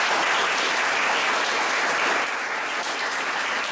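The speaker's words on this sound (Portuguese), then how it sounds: "Quero pedir uma salva de palmas ao presente aqui." University audience at a talk on the history of Alagoas radio breaks into sustained, dense applause, loud and even throughout with no voices over it.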